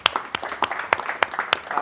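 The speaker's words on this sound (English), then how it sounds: "please give them a big round of applause" Applause from an audience at a startup event held in a company cafeteria. Sharp, spaced claps sound across a short burst, fairly near and moderately loud.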